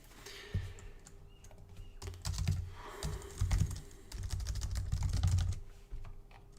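Rapid, uneven clatter of keys on a computer keyboard as someone types out a line of code, with bursts of close, crisp keystrokes running for several seconds and brief pauses between flurries.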